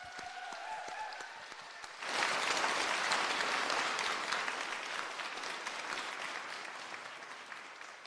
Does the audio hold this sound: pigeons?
no